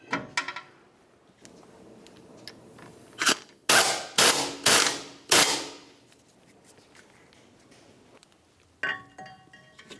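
A T40 torx screw is driven and snugged down to hold the rotor against the wheel bearing hub on a 2009-2019 Ford Flex, heard as a few sharp, loud metallic clicks and ratchet bursts close by, separated by quiet pauses.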